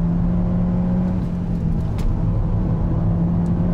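Steady engine drone of a Peugeot 308 GTI at sustained speed on a race track, a constant low rumble with a faint whine, no talking.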